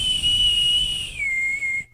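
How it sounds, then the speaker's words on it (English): A boatswain's whistle on a ship gives a loud, sustained shrill tone that steps down in pitch partway through before cutting off, heard alone. "The boatswain's whistle blew loudly"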